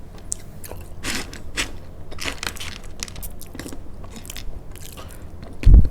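Crunching bites of crispy dried fruit, a steady run of close, crackly chews with a louder crunch near the end, no talking.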